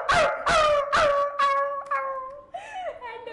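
A voice imitates an angry dog, letting out four sharp, close barks in quick succession before trailing into a whiny, yelping tail.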